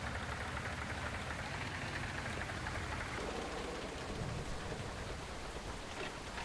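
Steady rain in the farming video game Farmer's Life hisses as a dense, even wash of drops, with a low rumble underneath and no talk.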